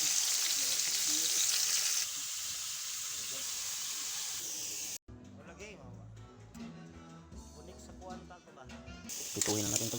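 Fatty meat sizzles and fries in a pan as mung beans cook, a steady hiss for the first half before louder music and talk take over, the sizzle returning briefly at the end.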